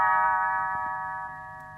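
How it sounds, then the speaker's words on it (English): A small bell chime rings once as a storybook page-turn cue, bright and clear, then fades slowly over a couple of seconds. "it is time to turn the page when Tinker Bell rings her little bells like this"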